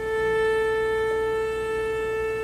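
A single guitar string rings as a pure, sustained harmonic when lightly touched at its midpoint, a clear steady bell-like tone that slowly fades, heard alone.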